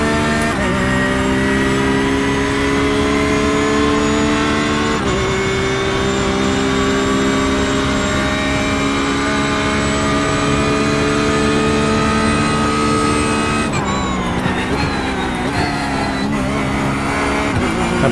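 A Porsche 911 GT3R in the iRacing sim at Bathurst howls at high revs with a loud, continuous engine note that holds steady, then shifts and climbs with gear changes near the end.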